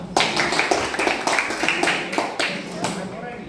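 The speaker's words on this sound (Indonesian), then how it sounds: "Tepuk tangan untuk kita semua." Students in a classroom clap together in a burst of irregular, close handclaps that thin out toward the end, with voices heard among them.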